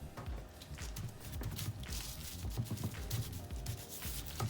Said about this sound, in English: Rub it on in.